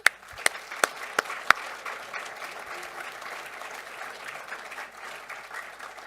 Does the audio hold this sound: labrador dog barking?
no